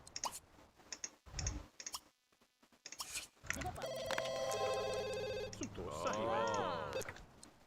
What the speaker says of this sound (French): Va répondre au téléphone.